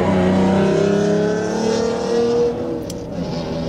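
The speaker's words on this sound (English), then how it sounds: "It was like a bright cobalt blue Mustang." A bright cobalt blue Mustang revs loudly close by and then passes, its engine note strong at first and easing as it moves away, with no talk over it.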